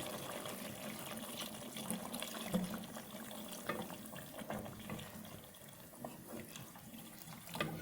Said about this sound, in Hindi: अब हम इसमें डाल देंगे 3 कप पानी गोश्त गलने के लिए।